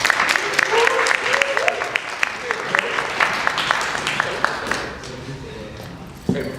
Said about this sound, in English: So give it up for Joseph Fountain